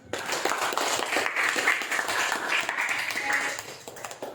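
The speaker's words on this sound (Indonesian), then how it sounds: "Oke, tepuk tangan dulu." A school class applauds together after the teacher's prompt, a full burst of mixed clapping from many hands that swells and holds, then thins out toward the end.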